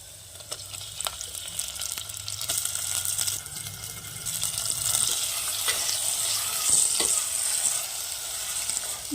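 Washed minced mutton keema hitting a hot pan, sizzling and crackling steadily close up, with scraping stirs and occasional clinks, no talking.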